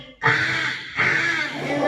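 A voice imitates a crow cawing from a tree, with two harsh, loud caws in quick succession, close and alone, at a school mimicry competition.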